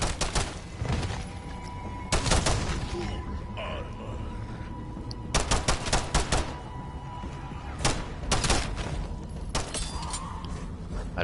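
Semi-automatic gunfire in Call of Duty Modern Warfare Zombies: loud bursts of sharp shots in several clusters with pauses between, alongside other game effects and a steady background hum.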